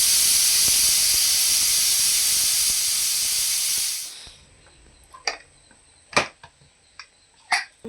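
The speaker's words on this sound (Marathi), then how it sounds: "आता गॅस मध्यम करून कुकरची एक शिटी काढून घेऊया" A pressure cooker of coconut rice on a medium gas flame lets out a loud, steady blast of hissing steam for about four seconds. It then cuts off, leaving scattered kitchen clinks and taps.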